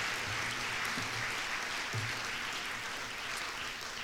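Faint, distant applause from an audience at an innovation awards event for six contestants, a steady broadband wash of clapping that holds at an even level throughout.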